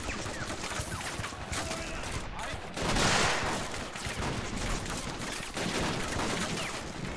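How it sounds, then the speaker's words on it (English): Mortar fire and explosions in the World War II strategy game Men of War: Assault Squad 2, Peleliu beach assault, with dense continuous gunfire, a heavier blast burst near the middle, and a constant roar throughout. "This mortar is actually quite active."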